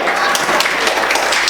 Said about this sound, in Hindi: अरे जितने जने होते तो ताली बजा लो